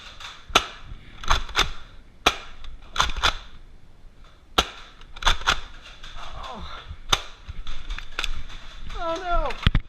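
Nerf blasters firing foam darts in an outdoor-style Nerf war, sharp snappy pops repeating irregularly, sometimes in quick pairs, close and loud, with people shouting between shots.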